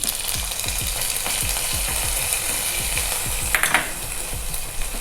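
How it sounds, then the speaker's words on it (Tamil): A tempering of mustard seeds, dried red chili, curry leaves and fenugreek hits pineapple pachadi with a steady, hissing sizzle, crackling throughout and punctuated by repeated soft low thumps. "தாளிச்சதை கொட்டிடலாங்க."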